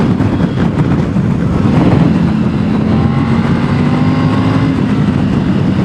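A Triumph Tiger 900 motorcycle engine idles and revs with a rough, throaty roar from the airbox and exhaust, steady and fairly loud throughout.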